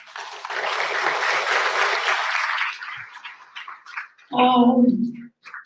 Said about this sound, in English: a big round of applause for all the teachers who were there from the different schools